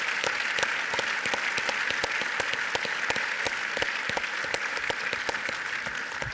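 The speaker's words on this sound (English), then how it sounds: "please join me in giving Admiral Grady a round of applause." Steady audience applause for Admiral Christopher Grady after a fireside chat, many individual claps in a dense, even stream with crisp nearby hand strikes, holding at a constant level throughout without voices.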